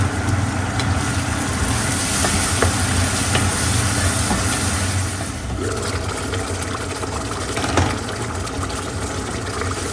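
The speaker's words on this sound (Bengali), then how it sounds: "মশলা কষাই ফেলছি" Spices and chicken frying in a pan, a loud, continuous hissing sizzle with a steady crackle, dipping slightly partway through, and no talk over it.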